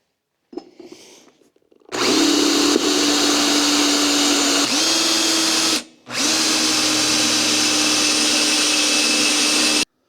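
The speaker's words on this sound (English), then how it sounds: "we can drill it and put some bolts in there" A power drill whines steadily and loudly drilling holes in an old gas bottle, running for several seconds, stopping briefly, then starting again with a steady high-pitched grinding drone.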